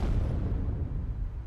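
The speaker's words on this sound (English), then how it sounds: "An enormous explosion erupts from the direction of Satellite City ODE-01." An enormous explosion on a distant satellite city. It is a deep, rumbling boom with heavy low-end roar that starts loud and slowly fades over about a second and a half, with no voices.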